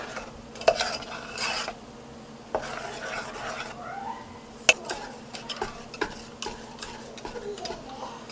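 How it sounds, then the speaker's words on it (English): A wet mixture is whisked into a dry batter for a healthy kids' snack, heard as irregular close clinks and scrapes of a whisk against a bowl with brief pauses between bursts. "You can whisk this slightly, don't whisk too much."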